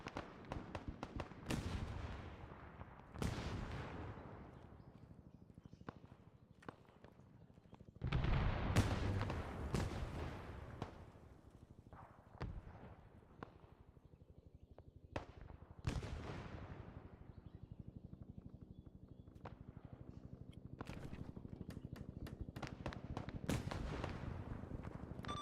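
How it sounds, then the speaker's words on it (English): Mortar rounds impacting around a forward operating base in the military game ArmA 3, a run of heavy booming blasts and sharp cracks scattered across the stretch, some near and loud, others more distant, with faint radio chatter between them. "Fob is being mortared currently"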